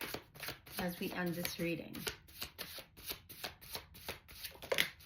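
Astrology cards shuffled by hand in a rapid series of crisp riffling flutters, close and steady, with someone talking briefly over the start.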